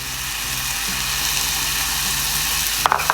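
Onions sizzle in a frying pan for a mince meat sauce, a steady broadband hiss with a low hum beneath and a brief clatter of stirring near the end, no talking.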